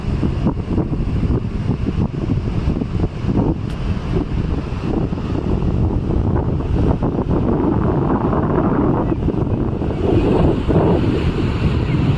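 Steady roar of sea waves breaking and washing in on the Konkan coast, loud and continuous, with wind buffeting the microphone throughout.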